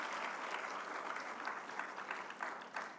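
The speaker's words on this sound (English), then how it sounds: "Can we have a big round of applause for our experts?" Audience at an industry-academia dialogue session on curriculum revamping gives a round of applause for a panel of experts, a steady clapping crowd at moderate distance that lasts throughout without letting up.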